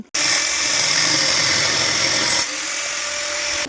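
Power tool cutting metal pipes to build a window frame gives a loud, steady high-pitched whine, starting abruptly, running about two seconds, then dropping to a slightly lower tone before stopping.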